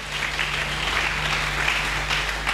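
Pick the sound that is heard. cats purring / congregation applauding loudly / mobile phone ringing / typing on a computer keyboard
congregation applauding loudly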